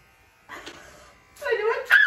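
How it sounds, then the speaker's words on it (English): An electric shaver buzzes as it runs straight down a person's head, in two short, close bursts of whirring with quiet gaps between them. "just take the shaver and go straight down your head."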